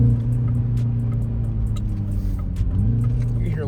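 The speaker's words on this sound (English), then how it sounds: "You can hear a little turbo in there." A 2025 Mini Cooper S engine drones steadily up close in winter conditions, with a faint whistling turbo whine riding on top of the low rumble.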